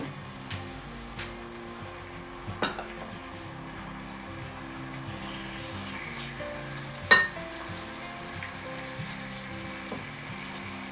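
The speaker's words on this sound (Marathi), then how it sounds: "आपण हे जे प्रॉन्स आता मॅरिनेट करून ठेवले होते ते आपण त्याच्यामध्ये टाकून घेऊया।" Marinated prawns fry in a pot of biryani base with a steady low sizzle, broken by a few sharp clinks and stirring knocks, the loudest near the middle, with no talking.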